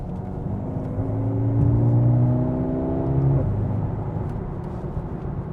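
Mercedes-AMG A35 four-cylinder engine revving hard, pitch climbing through the gears and then dropping on a downshift, with a steady whirring drone throughout. The engine sits close and loud, and no one speaks.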